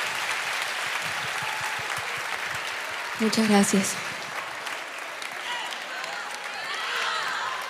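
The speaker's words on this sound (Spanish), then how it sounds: "Fuerte el aplauso, por favor, que los vamos a despedir esta noche." Concert audience applauding string musicians at the end of a live show in a Buenos Aires theater, steady dense clapping throughout with a brief spoken thanks partway through.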